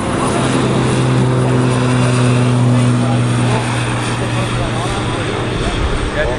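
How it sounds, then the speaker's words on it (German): A Pilatus PC-6 propeller aircraft from Triengen takes off, its engine and airscrew roaring loud and steady with a droning tone throughout, and a voice talks over it. "Und jetzt hier gestartet, PC6 von Triengen, mit dieser schönen Nachtbemalung"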